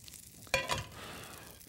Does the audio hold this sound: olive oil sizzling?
yes